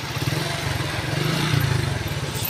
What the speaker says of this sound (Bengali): উঠে পড়েছি বাইকে, আমাদের বাইকটা চলতে শুরু করেছে।